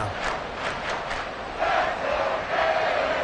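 A football stadium crowd roars in a PS5 video game, a broad sustained cheer swelling in waves at moderate loudness with no speech over it.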